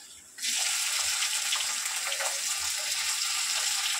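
Chopped tomato dropped into a hot frying pan after eggs have been fried, bursting into a loud, sudden sizzle that holds as a steady, close hiss.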